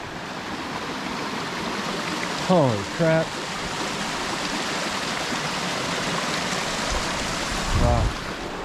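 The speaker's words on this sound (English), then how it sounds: "Another freaking waterfall." A waterfall and mountain stream on the Mt San Jacinto trail via Deer Spring rush steadily and close throughout, while someone speaks briefly over the continuous water noise.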